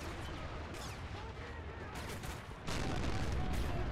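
Artillery and mortar fire rumbles through a dense, noisy battle soundscape in the video game COD WW3, a constant wash of distant booms and gunfire that surges louder partway through.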